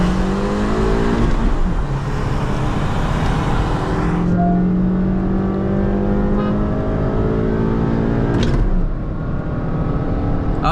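A stage 1 Honda City and a Hyundai Verna accelerate hard side by side in a drag race, engines roaring loud and close with rising pitch through the revs and a gear change midway.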